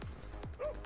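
A dog in the Overcooked 2 video game letting out two quick, close barks followed by a short whimpering whine.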